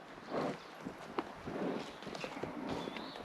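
A ridden horse walks along, its hooves landing in a steady, moderately loud clip-clop rhythm close by, with a few sharper knocks among the footfalls and no voices.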